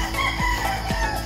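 Fighting roosters kept for cockfighting, about six months old, crow close by in a pen, with a couple of brief clucks over a steady hum of background noise.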